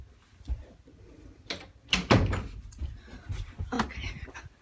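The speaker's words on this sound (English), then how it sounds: "I'm gonna go close the door." An indoor door is shut partway through, a sharp knock-like thud with a brief rattle in a quiet room, followed by light shuffling movement.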